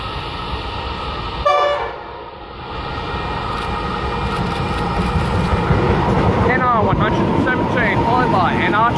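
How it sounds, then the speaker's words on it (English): A long, loud rumble of a freight train hauled by NR-class locomotives passing Wondabyne, New South Wales, fills the clip, with squealing metallic wheel tones and a brief high horn-like burst near the start. "we've got another train passing through Wondabyne"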